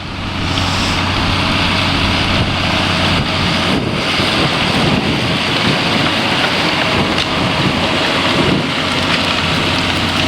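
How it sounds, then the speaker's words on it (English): Cold wind blows hard outdoors on a farm among older tractors and sugar beet machinery, a steady loud broadband rush with gusty buffeting that fills the whole clip, no voices. "it ain't half windy out here, and that wind"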